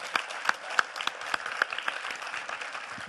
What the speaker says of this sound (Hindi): शब्दनाथ के लिए फिर से तालियां बजा दें